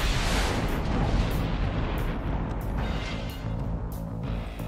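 Fireworks exploding in the video game Infamous Second Son, a loud continuous roar of overlapping booms and crackling bursts that thins slightly toward the end.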